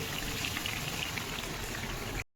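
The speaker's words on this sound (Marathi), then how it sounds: "अतिशय सुंदररित्या आपल्या आवड्या इथे इथे तळतायत" Taro leaf rolls (alu vadi) frying in hot oil, a dense, steady sizzle and crackle heard up close and alone, cutting off abruptly at the end.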